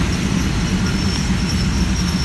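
Ordinary passenger train 262 from Hua Hin to Bangkok at Ban Pong station platform 1, producing a steady low rumble of railcars and engine with a faint high whine, continuous and close, without talk.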